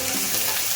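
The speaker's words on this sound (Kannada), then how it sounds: "ಸ್ವಲ್ಪ ಶುಂಠಿ, ಸ್ವಲ್ಪ ಕೊತ್ತಂಬರಿ, ಸ್ವಲ್ಪ ಪುದೀನ ತೊಗೊಂಡಿದ್ದೀನಿ. ಎಲ್ಲ ಫ್ರೈ ಮಾಡ್ಕೊಳ್ಳೋಣ." Ginger, coriander and mint fry in a pan for chicken gravy. A steady, loud hiss of sizzling oil carries on unbroken with no speech.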